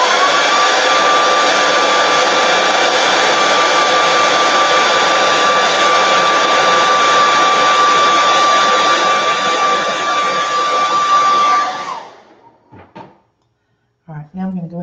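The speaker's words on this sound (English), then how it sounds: "I'm going to hit this with the hairdryer just to make sure it's good and dry" A hair dryer blows steadily and loudly for about twelve seconds to dry paint on a sock monkey door hanger, then cuts off, leaving a few faint clicks and handling noises.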